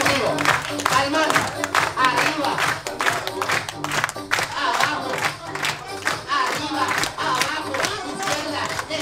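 An audience claps in quick steady rhythm at a clown show at a live event, loud and close, with crowd voices and shouting mixed in throughout.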